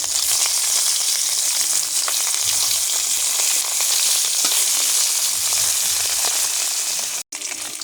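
Pieces of hilsa fish frying in a pan of hot oil give a dense, continuous close sizzle, with a brief clunk near the end, and no one talks.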